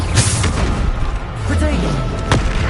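Bombarda blasting spell explosions from Hogwarts Legacy gameplay, a series of loud booming bursts with rumbling low-end impacts over a continuous dense battle din, with a voice speaking.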